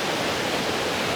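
Waterfall near Ranchi in the Patratu Valley area, water pouring down with force, a dense, constant rushing roar close by, with no voices.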